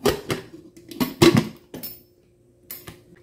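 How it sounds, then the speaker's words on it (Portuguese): A lid is set down onto a cooking pot, likely a pressure cooker, holding chicken with water, vinegar and seasonings; several sharp metallic clanks and clatters come close up with short pauses between them. "Agora é só tampar aqui."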